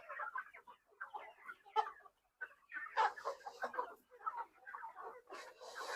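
Rhode Island Red egg-laying hens, four-month-old pullets penned in a shed, cluck and chatter in short overlapping bursts at moderate distance, fairly quiet and uneven.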